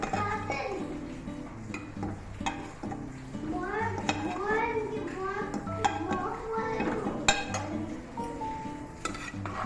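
Potatoes are stirred in a metal pot while making potato and egg pulao, with a spoon scraping and clinking against the pot over a soft sizzle. Someone talks over the cooking throughout.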